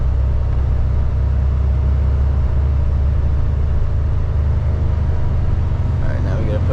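An Isuzu box truck cruises on the I-495 highway, its steady low engine drone and constant road rumble filling the cab without a break.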